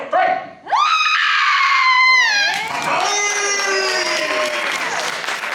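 Loud, high-pitched screams from a theme park show audience, rising together and sustained for several seconds, with overlapping shrieks and some clapping.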